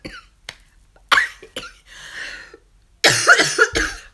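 Several sharp coughs, isolated bursts with a final cluster of harsher coughing, close and fairly loud.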